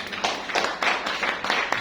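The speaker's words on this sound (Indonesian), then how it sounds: "Tepuk tangan dong buat Tuhan" A church congregation clapping hands during a sermon, a brief spell of steady rhythmic claps from many people, fairly close and with no talking over it.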